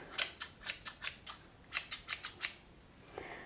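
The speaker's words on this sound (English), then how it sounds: "I don't feel like I'm closing the scissor on the same time that I'm moving the" Sharpened sewing scissors snip repeatedly at home, about a dozen crisp metallic closing cuts in two quick bursts separated by a short pause, close and clear with no talking.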